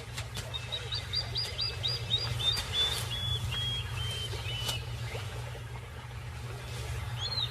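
A plover calls in a rapid series of sharp, high chirps while confronting a monitor lizard near a crocodile nesting area, against a steady low ambient hum outdoors.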